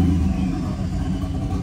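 Supercharged Dodge Scat Pack V8 with a ProCharger, idling at a car meet, giving a steady close, loud low rumble with no clear revs or talk.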